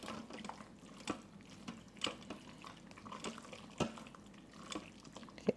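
Orecchiette pasta with sausage ragu and pecorino being stirred in a pot, soft wet squelching and scraping in uneven strokes with a few louder clicks of the spoon, fairly quiet and up close.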